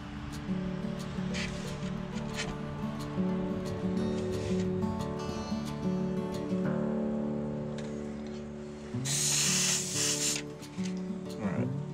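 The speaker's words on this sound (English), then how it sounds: "And then I'm going to load the airbrush with it." An airbrush loaded with thin, ink-like paint sprays base colours onto a wood-carved brown trout, a steady hiss running through with a louder close burst near the end, alongside a low continuous hum.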